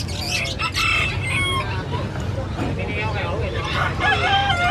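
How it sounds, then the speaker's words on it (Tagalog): Chickens and roosters at a busy pet market, with crowing and clucking from several birds layered over a dense, loud crowd din and occasional nearby voices. "Yung mga manok na to."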